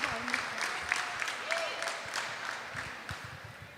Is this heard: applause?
yes